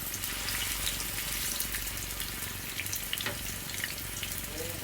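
Paste of medium-sized onions fries in a pan, giving a steady, soft hiss with faint crackles throughout and no talking.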